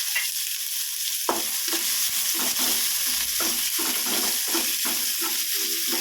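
Onions hiss and sizzle in hot oil for a Tamil kuzhambu, with stirring scrapes and crackles breaking in at a steady, busy rhythm, close and fairly loud.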